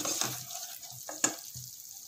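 Garam masala being stirred and fried in a pan for curd chutney, with a spoon scraping and tapping the pan a few times over a steady hiss of sizzling.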